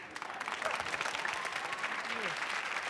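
Studio audience of a Martin sitcom episode applauding steadily for about three seconds, a dense, even wash of clapping with no voices on top.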